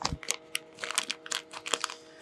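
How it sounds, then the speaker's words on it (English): A plastic bag holding a shock absorber is ripped open by hand, giving a run of sharp crinkling and tearing bursts, close and fairly quiet, with no talking. "We're gonna have to open this up by just ripping it open"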